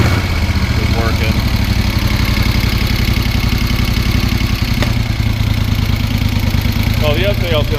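A 1973 Moto Guzzi motorcycle idles close by with a steady, even rhythmic engine throb throughout, and a voice speaks briefly over it.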